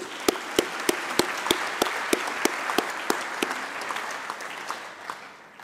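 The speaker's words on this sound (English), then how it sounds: "Let's give them applause also." Applause from the audience fills a large hall at the closing plenary of the UNEA 3 UN environment assembly, a dense steady clapping with a few sharp louder claps standing out before it slowly fades.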